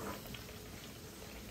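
Sopes sizzling in a frying pan, a steady crackling hiss of oil with fine popping, close and continuous at low-moderate level, with no talking.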